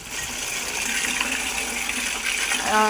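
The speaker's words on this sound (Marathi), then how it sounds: "तर आत्ता ह्या गायचं पाणी प्यायचं चालू झालेलं" A cow drinks water in a continuous wet gushing and slurping wash, fairly close and steady, with a faint voice entering at the very end.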